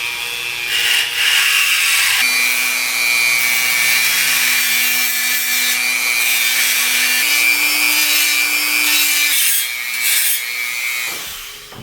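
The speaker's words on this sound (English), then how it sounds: "I am using this square bit because it cuts through plastic like it's a knife through hot butter" A rotary tool fitted with a square bit cuts into the plastic wing joint of a dollar-store bat, giving a continuous close, harsh grinding whine with shifting pitch that runs through most of the stretch and dips briefly near the end.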